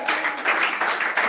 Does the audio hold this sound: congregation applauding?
yes